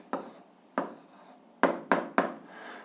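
Answer to an 8th-grade algebra exercise written by hand, heard as five short scratchy strokes in irregular succession, close and fairly quiet, with no talking.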